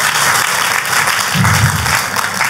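A church congregation at an Easter service breaks into loud, sustained applause, thick continuous clapping with a low murmur of voices swelling in the middle.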